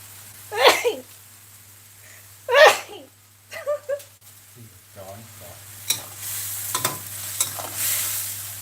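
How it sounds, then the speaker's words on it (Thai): A man sneezes twice loudly and close while stir-frying fermented soybean paste in a home kitchen, followed by sizzling, stirring and clattering from the pan with some talk. "จะจาม"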